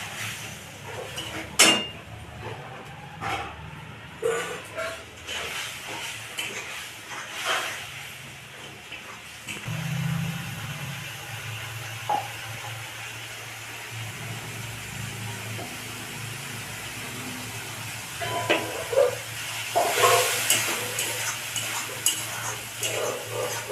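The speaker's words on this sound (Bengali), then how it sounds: "সব দেওয়া হয়ে গেছে, এবার আমি নাড়বো।" A spoon stirs a spice mixture with salt in a pan while it cooks, making repeated clinks and scrapes against the metal over a low sizzle, with busier scraping toward the end.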